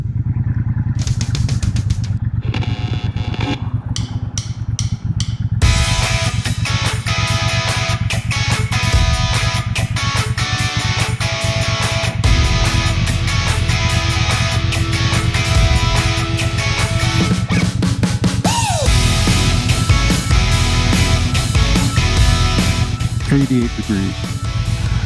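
A 2020 Triumph Speedmaster motorcycle rides steadily through a Texas town, its engine a continuous close drone with shifting pitch as the rider speeds up and slows, joined by wind and road noise and some clattering.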